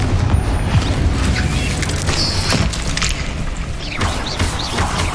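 A Confringo fire spell bursting in Hogwarts Legacy gives a loud, dense booming crash with creaking and rumbling debris that holds steady for several seconds.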